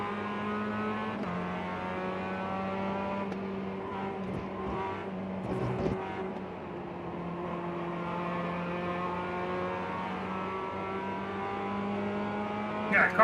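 Race cars in the iRacing sim racing game roar steadily around the track, engines holding a sustained high drone with small shifts in pitch and a brief louder burst near the end, all close and continuous.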